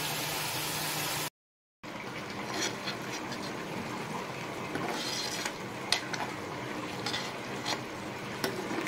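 Surmai fish curry (kalvan) simmering over a low gas flame gives a steady, soft bubbling hiss with faint scattered clinks, broken by a brief moment of silence near the start.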